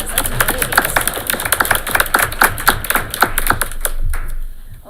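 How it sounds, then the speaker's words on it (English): A small group applauds at a school board meeting, a few seconds of brisk, uneven clapping that is close and fairly loud before it tapers off. "Yeah, another round of applause."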